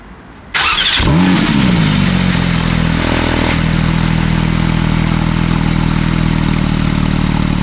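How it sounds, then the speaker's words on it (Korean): A Porsche 911 GT3 of the 992 generation cranks and fires up, its engine flaring loudly at once before settling into a steady, throaty idle close by. "시동을 한번 걸어볼까요?"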